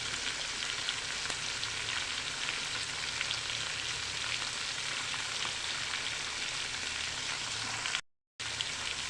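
Curry leaves and turmeric sautéing in a pan for sambar give off a steady, close sizzle of frying that runs unbroken with no voices, apart from a brief drop near the end.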